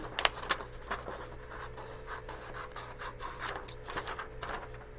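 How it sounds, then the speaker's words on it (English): Yellow paper note page being trimmed along its sides, top and bottom for a notebook tab divider, giving soft scraping, rasping cuts in quick irregular strokes close by, with a steady low hum underneath. "Trim off the sides, the top, and the bottom."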